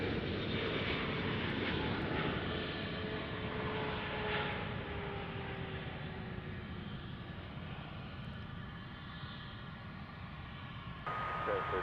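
A Boeing 777 heavy jet at DFW airport makes a steady, distant engine roar with a faint whine, broad and even throughout, heard alone from an outdoor planespotting spot.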